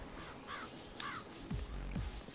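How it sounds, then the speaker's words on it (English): Crows caw in the game Tokyo Jungle, a few harsh calls in quick succession at moderate volume over a soft ambient background. "Stupid crows, they're making so much noise."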